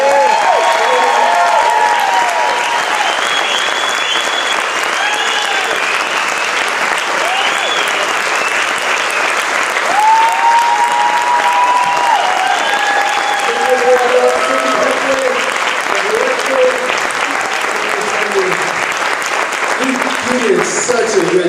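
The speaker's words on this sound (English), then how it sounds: "Everybody give them a round of applause one more time." Sustained audience applause after a Christmas musical fills the room, a dense, loud wash of many hands clapping with cheering and chatter mixed throughout.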